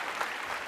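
Studio audience at a Tamil talk show breaks into steady, even applause, a dense wash of clapping that fills the whole short moment at moderate loudness, with no voices over it.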